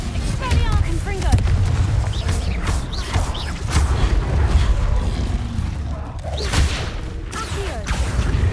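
Spells cast in the video game Hogwarts Legacy, Expelliarmus and Confringo, make a steady run of whooshes and booming blasts over a low rumble, with speech mixed in throughout.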